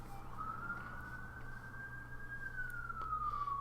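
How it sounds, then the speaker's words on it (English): An emergency siren wails steadily, its pitch rising then slowly falling, heard from some distance over a low traffic hum. "Apologise for the sirens."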